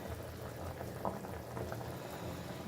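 Quiet, continuous bubbling of lentils boiling in a pressure cooker with a broken gasket, with a soft irregular gurgle close by and no voices.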